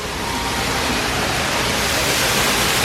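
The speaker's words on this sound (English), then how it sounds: "I love the sound of the waterfall." Steady, loud rushing water from an artificial waterfall inside a Bass Pro Shops store, a constant broadband hiss without pauses or other sounds.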